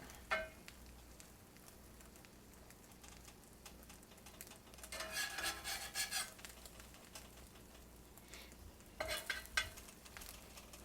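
An egg sandwich cooks in a pan, with a soft, faint sizzle and a few scraping, stirring bursts from a utensil in the pan, close and quiet.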